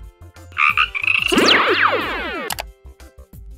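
Cartoon frog croaks as a frog falls during a children's relationship-naming game in an educational programme, loud stacked croaking bursts with sweeping, sliding tones over a low rhythmic musical beat.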